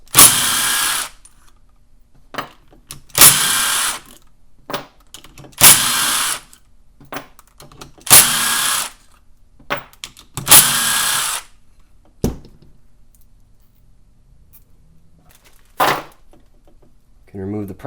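Power tool spinning out 10 mm clutch bolts on a Yamaha YZ250F engine, five loud close bursts of whirring at regular intervals, each a second or so, followed by a shorter burst and quiet handling between.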